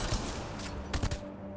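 A Hurricane gun fires in the video game Mass Effect Andromeda, with a rapid burst of close, punchy shots clustered near the middle, then the reports trail off quickly.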